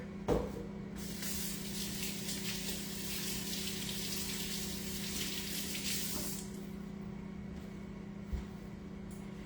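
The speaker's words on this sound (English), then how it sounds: "Let me wash my hands again real quick." Tap water runs steadily into a kitchen sink while hands are washed under it, a close continuous splashing hiss that lasts several seconds before the flow is shut off, followed by faint handling noises.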